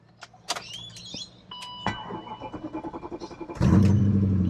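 An old car with a BMW M62 B40 engine being jump-started from a Topdon jump starter: a few clicks and whirs, a rhythmic starter crank, then the engine catches with a loud close roar and settles into idle.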